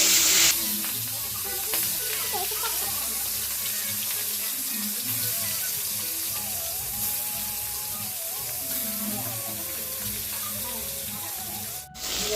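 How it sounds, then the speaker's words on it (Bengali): Fish slid into smoking-hot oil, frying with a loud, continuous sizzle that sounds almost like running water, close and steady for about twelve seconds with a brief dip near the end. "তেল দেখো গরম হয়ে গেছে, ধোঁয়া উঠছে। এবার মাছগুলো ছেড়ে দিই আস্তে আস্তে।"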